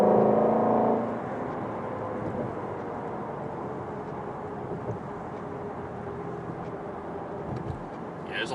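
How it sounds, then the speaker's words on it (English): Night traffic on a rain-soaked New York road, heard from inside a Ford Shelby GT350: a steady wash of tire spray and engine drone, with a louder surge at the very start before settling into a constant hiss. "there's a lot of traffic tonight"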